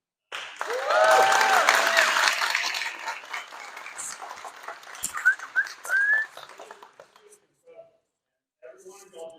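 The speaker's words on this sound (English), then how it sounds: "Every one of y'all just clap because y'all know how incredible she is, right?" An audience at a press conference bursts into loud applause with whistles and cheers, peaking early then thinning into scattered whoops and sharp whistles before fading to near silence, followed by faint talk.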